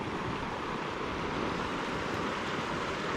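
A river swollen after heavy rains rushes past in a steady, fairly faint wash of broadband noise, with no voices.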